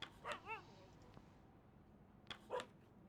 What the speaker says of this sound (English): Check in on the dogs.